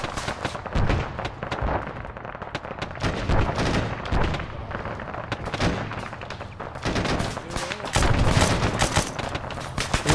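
Fixed gun firing in the Arma video game, with sustained automatic bursts and overlapping shots that crackle continuously for about ten seconds, close and loud, mixed with more distant gunfire.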